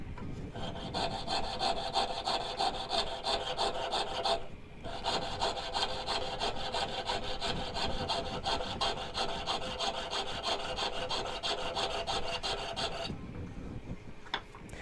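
Hand tool rasping steadily across waxed wood while shaping fork dogs, a continuous close scraping that pauses briefly midway and cuts off near the end, with no talk.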